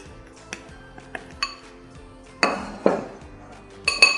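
A whisk or utensil beating eggs with milk in a bowl gives scattered, light clinks and taps, then a few louder scraping knocks against the dish, close and fairly quiet with no talk.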